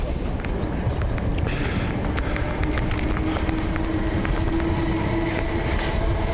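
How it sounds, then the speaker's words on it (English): A train rumbles steadily across a rail bridge over the Thames at close range, a continuous heavy roar with faint rhythmic clatter and a high metallic whine running throughout. "it's a train."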